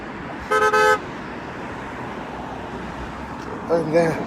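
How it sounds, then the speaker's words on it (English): Car horns honk near an Impeach Trump street rally in Omaha, with one sharp blast and then a second, rougher honk a few seconds later over steady traffic noise. "And then have people on this side honking."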